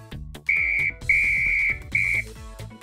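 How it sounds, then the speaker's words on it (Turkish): A toy whistle blown three times in short, shrill toots, each lasting under a second with brief pauses between, loud and close, alone over faint background. "Bir de düdük var. Dinleyin."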